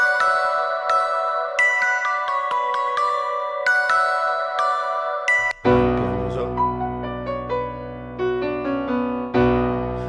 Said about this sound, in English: So this one's got synth bells.